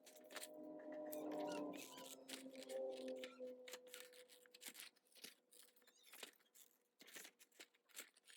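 Scissors snip paper while cutting out a paper Mario figure, giving quiet, close, irregular crisp cuts and rustles with a faint hum under the first few seconds.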